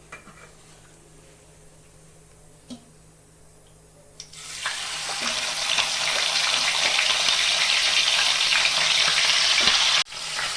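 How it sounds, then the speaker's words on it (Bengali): Chicken pieces, washed and rubbed with salt, drop into a pan with a little oil and break into a steady, bright sizzle that swells and holds close up, after a few quiet clinks of cookware. "এখন আমি একটু তেলে ফ্রাই করে নেব।"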